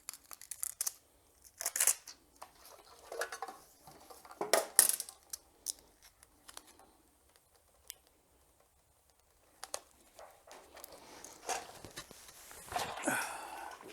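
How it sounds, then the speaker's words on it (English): Scissors cut through heavy-duty Velcro in short, quiet snips and rasps, scattered in bursts with pauses of near silence between them. "Yeah, my scissors are getting dull."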